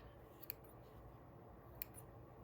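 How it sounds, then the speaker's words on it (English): Scissors trimming stray wool fibres on a needle-felted sheep: two faint, crisp snips about a second apart over quiet room hiss. "I'm just going to grab my pair of scissors and kind of"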